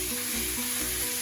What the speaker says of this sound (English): you can hear my pan's nice and hot because I'm hearing that sizzle there straight away when I put it on the pan